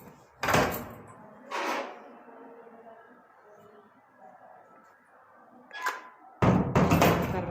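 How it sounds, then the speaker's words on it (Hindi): A door is opened and shut indoors, giving a few sharp thumps and knocks with quiet room noise between them and a louder cluster of bangs at the end. "दरवाज़ा खोल के देखो, दरवाज़ा बंद करो"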